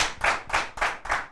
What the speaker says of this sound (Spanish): Queremos darle un aplauso a nuestros invitados, un aplauso gigante.